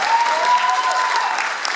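An audience in a hall at a youth KVN comedy league quarterfinal breaks into steady, full applause, a dense wash of many hands clapping with a faint voice or tone running underneath.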